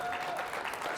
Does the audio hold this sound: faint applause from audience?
yes